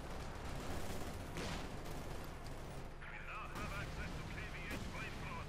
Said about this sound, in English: We got an incendiary barrage called in here